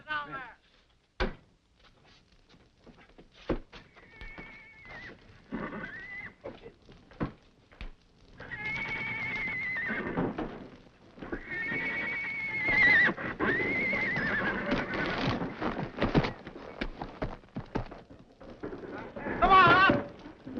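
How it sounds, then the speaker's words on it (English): Horses neigh and whinny loudly several times, with hooves clip-clopping and bustle around them. Shouting voices cut in during the urgent commotion near a fire. "Get those horses out there."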